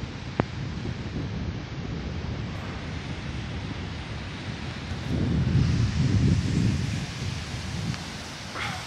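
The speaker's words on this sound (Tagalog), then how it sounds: "Ang laki ng alon, no?" Sea waves breaking on a beach crowded with swimmers, with steady wind noise, a broad continuous wash of surf that swells louder for a few seconds midway before settling back to a constant roar; no speech.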